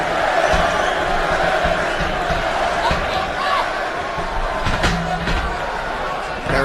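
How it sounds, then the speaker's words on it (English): An MMA fight crowd in an arena cheering and roaring for Mike Perry during his bout with Ponzinibbio, a loud continuous swell of voices with shouts and a few sharp bursts, commentators talking over it. "Crowd getting behind Perry once again."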